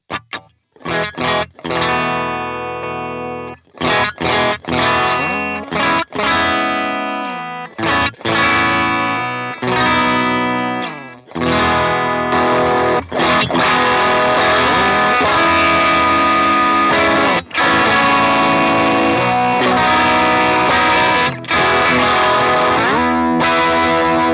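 Electric guitar driven through a Blammo TNYDUMBLE Dumble-style overdrive and clean boost pedal, with strummed chords and sustained riffs that start with choppy stops, then ring loud and saturated with thick compression and long sustain, no voices.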